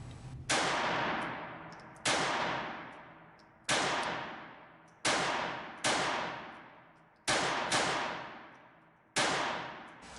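Eight sharp shots from a Walther PP .32 auto pistol fired at targets 35 feet away, each crack loud and close with a decaying ring, spaced irregularly about one to two seconds apart.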